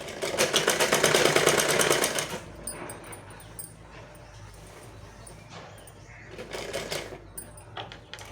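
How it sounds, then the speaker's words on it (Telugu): A sewing machine stitching leftover cloth, a steady mechanical whirring run that is loudest early, then eases to a quieter hum with a later surge, close by. "కొంచెం మిగిలిపోయింది, అందుకని నేను ఇలా స్టిచ్ చేస్తున్నాను."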